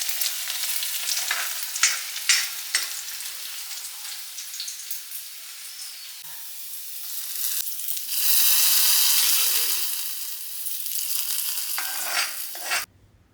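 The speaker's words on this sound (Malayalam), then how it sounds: "വെളിച്ചെണ്ണയിൽ ചെറിയ ഉള്ളി അത് നമുക്ക് വഴറ്റി ചേർക്കണം." Small shallots and curry leaves sautéing in coconut oil: a bright crackling sizzle with scraping stirs that swells louder midway, then fades and stops abruptly.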